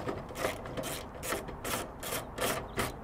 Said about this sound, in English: what you want to do is use a socket